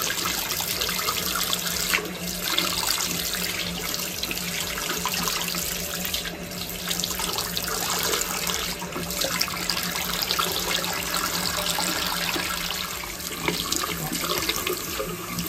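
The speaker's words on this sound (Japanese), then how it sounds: "お湯が戻りました。" Hot water runs steadily from a household tap after a gas meter reset following an earthquake, a loud, continuous rushing stream close by that lasts throughout without speech.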